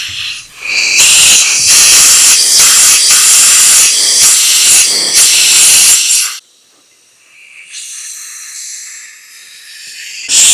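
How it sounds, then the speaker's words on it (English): Compressed air blasts loudly through the passages of a Holley 1904 carburetor, a sustained forceful hiss lasting several seconds, followed by a quieter, thinner blow and a final burst. "Blowing out the high-speed bleed and idle system passages."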